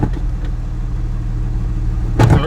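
A 2006 Jeep TJ Rubicon engine runs in a steady mid-pitched idle hum, then briefly revs up loudly near the end, heard up close with no talking.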